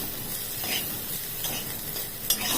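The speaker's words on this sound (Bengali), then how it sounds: "এটা দিয়ে একটু কসুরি মেথিটাও আমি একটু এর সাথে একটু ভেজে নিচ্ছি" Dried fenugreek leaves (kasuri methi) fry in a pan with onion, giving a soft, even sizzle with occasional scraping stirs and a small clink near the end.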